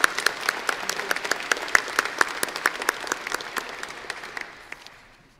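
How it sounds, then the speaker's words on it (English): Audience applause at an afternoon college convocation ceremony, a moderate scattered clapping from a crowd that swells briefly and then thins out and fades over several seconds. "let's have an applause for Her Worship"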